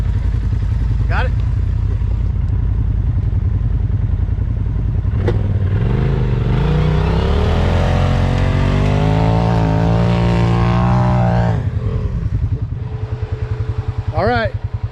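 A Polaris RZR side-by-side at Juniper Dunes roars up a sand dune hill, its engine rising in pitch, straining loud and close, then easing off, with people talking before and after the climb.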